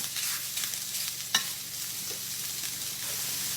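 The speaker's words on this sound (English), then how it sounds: "I just want it to sear on the one side" Shrimp sear in olive oil in a hot pan with a steady, close, high hissing sizzle, broken once by a brief clink of a utensil near the middle.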